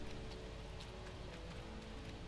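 Steady rain falling in the game Hobo Tough Life, a dense even wash of patter throughout, fairly faint and uninterrupted.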